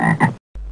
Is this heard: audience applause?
no